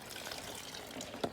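Water is poured by hand onto potted plants, a faint continuous trickling and splashing with a brief louder splash near the end.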